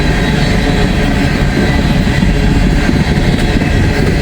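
A train passes close by on a main line near Cincinnati. Its loud, steady rumble and rail roar keep up without a break for about four seconds, and no voices are heard.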